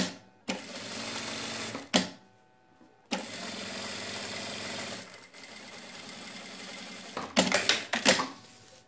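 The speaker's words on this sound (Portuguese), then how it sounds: "Vamos passar uma costurinha aqui de um pezinho de máquina." A sewing machine stitches a seam on a fabric bag in several steady whirring bursts, with short pauses and clicks between runs and a quick stuttering series of stitches near the end, close and alone with no talking.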